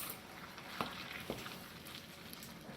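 Sausage frying in a pan, a soft, steady sizzle heard close, with a couple of faint stirring or scraping knocks partway through.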